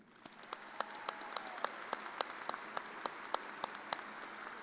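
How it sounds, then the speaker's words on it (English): Crowd applause at a spring architecture, planning and design commencement ceremony, a steady wash of clapping in a large hall with sharp, regular claps from one nearby person cutting through about three times a second. "Let's give him a round of applause."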